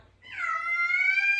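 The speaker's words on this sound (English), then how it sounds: "that's my cat." A single drawn-out cat meow rises and then holds, close and clear against a quiet background.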